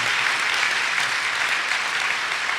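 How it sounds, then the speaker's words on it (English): A medical conference audience gives sustained, even applause for pulmonary hypertension nurses, a thick continuous roar of many hands clapping at once. "a round of applause I propose"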